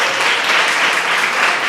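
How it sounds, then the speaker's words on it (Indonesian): A classroom of students applauding together during a chemistry lesson, a dense, steady burst of clapping heard close and loud with no voices over it. "tepuk tangan buat kita semuanya"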